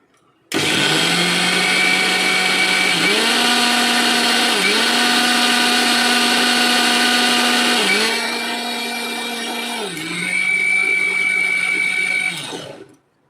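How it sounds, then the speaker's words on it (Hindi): A kitchen mixer grinder churns moong dal with a little water in its jar, a loud, steady whine that dips briefly several times as the load shifts, then cuts off after about twelve seconds. "मिक्सर ग्राइंडर जार में थोड़ी-थोड़ी दाल डालेंगे और थोड़ा-सा उसके साथ हमें पानी डालना है।"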